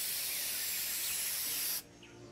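A generic spray can in Treasure Hunter Simulator gives a steady, close, bright hiss for nearly two seconds, then stops abruptly, leaving faint background sound.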